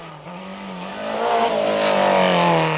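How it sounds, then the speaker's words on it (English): Toyota rally car on Dunlop tyres pushing hard along a slimy, slippery rally stage, its engine note climbing loudly as it accelerates, close and steady with no voices. "Austin is second fastest as he cocks the rear wheel in the Dunlop shod Toyota"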